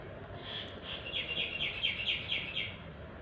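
Small birds chirp in quick repeated notes over a steady, rumbling mechanical street noise.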